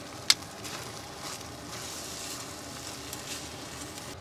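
Ratatouille vegetables seasoned with dried basil, oregano, garlic powder, salt and pepper are stirred in a pot over a camp stove on a mountain, giving a steady faint sizzle and soft stirring patter with one brief click near the start.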